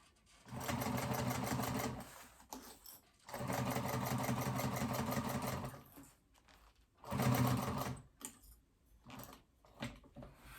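A sewing machine stitches a phone pouch in three main runs of rapid, steady whirring separated by pauses, ending in a few short bursts, close and fairly quiet.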